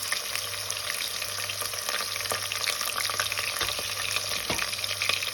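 A medium-sized onion fries in a pan with a dense, steady sizzle and a few scraping stirs, close and continuous with no talking.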